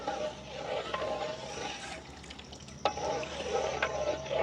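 A spoon stirs carrot halwa in a hot frying pan with soft scraping and sizzling. A few sharper clinks of the utensil against the pan come through, close and moderate.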